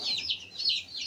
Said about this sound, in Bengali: এই যে মুরগি বাচ্চা, কত মুরগি বাচ্চা দেখতে পাচ্ছ।